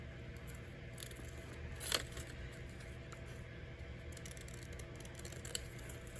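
Scissors cut an art journal page close by, trimming the paper in quiet, soft snips with light rustling and faint papery scraping in a hushed room.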